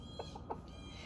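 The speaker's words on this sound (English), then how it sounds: "Oh, out there with the birds." Birds outdoors on a warm day, with chicken-like clucks and a couple of short calls rising from a steady, noisy background and no one speaking.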